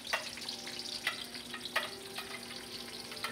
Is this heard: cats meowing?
no